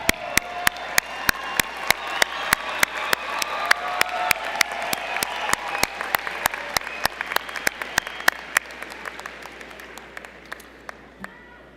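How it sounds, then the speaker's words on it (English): A large audience applauds at a university graduate commencement, a broad steady wash of clapping with a few sharp nearby claps standing out, gradually thinning toward the end, and nobody speaking. "you give them now a big round of applause"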